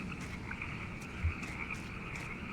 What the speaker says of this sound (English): Listen to them frogs.